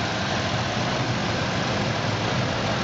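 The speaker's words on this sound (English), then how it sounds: "See, the motor runs great. No motor noises." A 2000 Ford F150 engine idles steadily, giving a continuous, even rumble with no breaks or changes in pitch, heard close up and alone.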